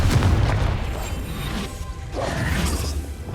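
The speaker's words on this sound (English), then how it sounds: "Confringo!" Confringo fire spell from Hogwarts Legacy bursting as a deep booming blast with a rushing whoosh, followed by rumbling debris and a second swelling surge, loud and sustained, with no talk over it.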